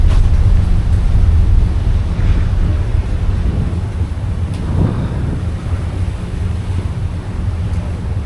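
Steady wind buffets the microphone on an open ferry deck in Indonesia, a loud continuous low roar with gusty swells and faint water and engine rumble underneath.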